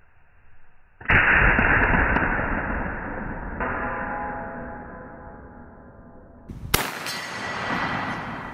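A Chiappa Ridge Runner 45-70 lever-action rifle fired with its muzzle brake removed, giving one loud, sudden blast followed by a long rolling echo that decays over several seconds, then a second sharp report near the end.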